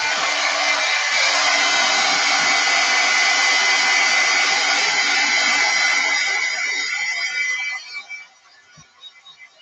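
Hair dryer blowing steadily on a painted cardboard coffin shelf, a loud, continuous whooshing roar held for about eight seconds before cutting off and winding down.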